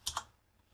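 A command is typed on a computer keyboard: a short burst of two or three close, crisp key clicks, then a pause and one more tap, quiet and alone.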